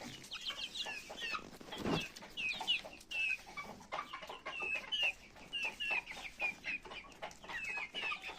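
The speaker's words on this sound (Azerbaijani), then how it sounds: "Artıq eşələnməyə başlayıblar." Several chickens cluck steadily and scratch about while feeding, a close, busy flock with overlapping calls and no talking.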